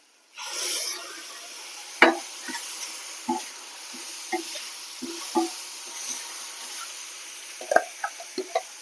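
Masala with garlic, ginger and tomato paste sizzles steadily in a pan up close, broken by scattered spoon scrapes and clinks as it is stirred, with no talking.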